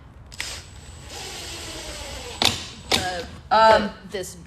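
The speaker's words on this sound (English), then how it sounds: "This bit here that's I'm pre-drilling with is actually called a countersink bit." A power drill with a countersink bit pre-drills holes in boards. A steady, fairly quiet motor whine runs for about two seconds, followed by a few louder, short bursts of sound.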